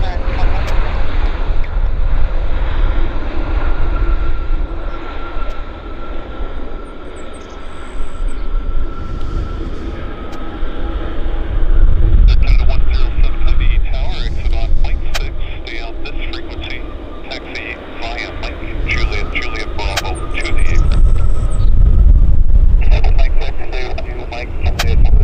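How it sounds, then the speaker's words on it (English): A passenger airplane landing at Vancouver International Airport (YVR): a loud, steady broadband roar of engines and rushing air that swells and recedes, with people talking over the noise throughout. "That was a really nice landing."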